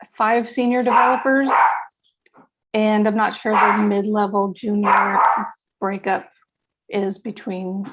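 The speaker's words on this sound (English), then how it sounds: "sorry about the dogs if you hear them" Dogs bark in the background during an online conference session while someone talks steadily over them, the barking intermittent and partly masked by his voice.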